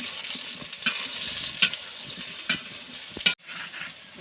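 Fried potatoes tipped into soybeans frying in a pan for a catfish and bottle gourd curry, with several sharp scraping stirs of a spatula over a soft sizzle and a brief pause near the end.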